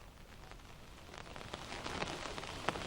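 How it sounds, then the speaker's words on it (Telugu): Heavy rain pouring down across the Medak district of Telangana, a steady dense hiss with scattered sharper drop impacts, fairly close and continuous, with no voices. "ఉమ్మడి మెదక్ జిల్లా వ్యాప్తంగా భారీ వర్షాలు దంచుకొడుతున్నాయని చెప్పుకోవచ్చు"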